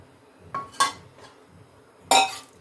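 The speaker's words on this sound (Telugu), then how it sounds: "ఫస్ట్ స్టవ్ పై ప్యాన్ పెట్టుకోవాలి." Metal pan set down on a kitchen stove before frying Bombay duck fish, a few close clanks and clinks, the loudest near the end, with quiet between them.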